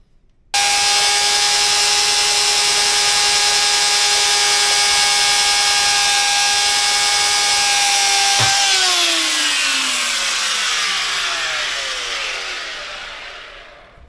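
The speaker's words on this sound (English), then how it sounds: "Right, we'll drill this 3mm hole." A power drill boring a 3mm hole in a small piece of stainless steel gives a loud, steady high whine for about eight seconds, then winds down as the motor spins to a stop.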